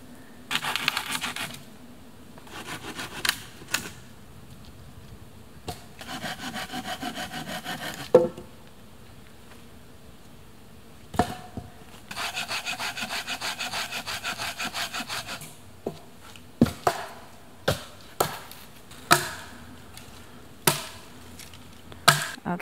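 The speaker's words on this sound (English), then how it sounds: "I'm cutting a little bit of firewood because it's going to rain soon" Firewood being sawn by hand at a shelter campsite, with bursts of rasping back-and-forth sawing separated by pauses and sharp knocks of wood, fairly close.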